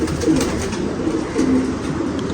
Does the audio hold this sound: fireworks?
no